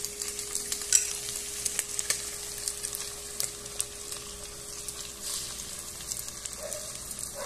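An egg frying in a pan for chile verde aporreado, giving a steady soft sizzle with faint crackles and a few light stirring clicks, no voices.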